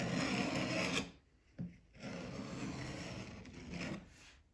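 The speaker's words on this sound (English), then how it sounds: "I'm going to spread it down with a spatula." Adhesive is spread thin with a spatula onto a model railroad track bed, making a close, steady scraping and rubbing with a brief pause midway.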